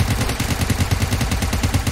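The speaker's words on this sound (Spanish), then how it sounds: "Espérate, que no te escucho con los disparos." Rapid bursts of gunfire in the PUBG Mobile zombie mode, a dense rattling stream of shots filling the whole stretch at steady close range with no pauses.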